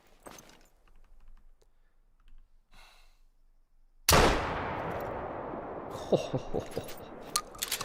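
A single loud rifle shot in the hunting game theHunter Call of the Wild, sudden and close with a long rolling echo, after quiet breathing and faint sounds, with small clicks following.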